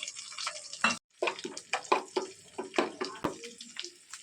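Water splashes and stirs into a ground spice paste of chilli, ginger, cumin, salt and turmeric for Bengali chicken kosha, with quick wet clinks and scrapes against a bowl in a steady, close rhythm, briefly stopping once.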